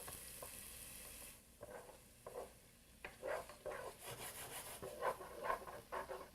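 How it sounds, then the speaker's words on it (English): Tomatoes pressed and smashed with a spoon against the side of a pan for penne pasta with mozzarella, faint soft rubbing and scraping strokes in an irregular rhythm after a brief hiss, quiet and close. "Then you can kind of smash your tomatoes down with your spoon"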